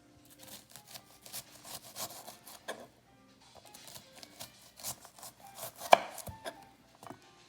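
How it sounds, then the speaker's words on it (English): A knife chopping an onion into small cubes on a cutting board for salsa, a quick series of close, light taps in irregular bursts with brief pauses and no talking. "when you cut on the outside of the onion, you have all of these nice little cubes that just fall off."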